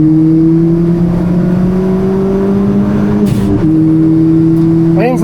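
A race car engine at full power on a track drones loud and steady with a sustained high-revving tone and a slight pitch rise, a voice talking over it briefly.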